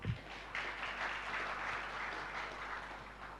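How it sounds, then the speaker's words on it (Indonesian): An indoor audience at a nurses' association inauguration ceremony breaks into steady, fairly faint applause that swells quickly and holds at an even level for several seconds. "Tepuk tangan untuk Pak Wagub."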